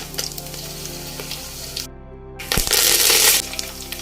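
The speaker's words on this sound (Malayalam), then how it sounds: "കടുക് പൊട്ടിയിട്ടുണ്ട് ഇനി വറ്റൽമുളക് ഇടാം" Dried red chillies go into hot oil with mustard seeds already popped for a Kerala fish pickle, a loud crackling sizzle that cuts out briefly, then surges into a bright, intense spitting burst before easing.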